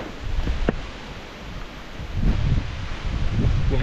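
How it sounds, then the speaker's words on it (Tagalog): Leaves rustling in gusty monsoon wind at an outdoor lanzones orchard, a steady rushing hiss that swells louder toward the end, with low wind buffeting on the microphone. "Ang hangin."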